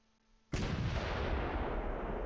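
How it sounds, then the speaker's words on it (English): Artillery fire in the video game Close Combat III erupts in a sudden heavy blast after a quiet half second, then rolls on as a dense, loud, sustained barrage of overlapping booms. "Tons of artillery."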